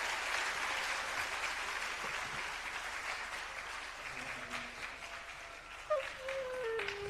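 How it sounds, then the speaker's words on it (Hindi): Sustained applause from an audience at a national school sanitation award ceremony, steady clapping filling the hall throughout with a brief louder swell near the end. "जोरदार तालियां होनी चाहिए,"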